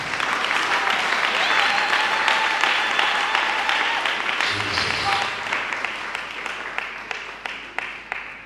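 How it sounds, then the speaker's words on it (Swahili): A church congregation breaks into loud, sustained applause that gradually thins toward the end into a few scattered claps, with voices mingling beneath the clapping. "unaweza ukanisaidia tena kuongeza Yesu makofi"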